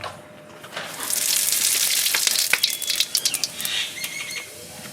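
Radhuni seeds hit hot oil for a tempering, setting off a bright, close burst of hissing sizzle that swells and then breaks into sputtering pops, without talk.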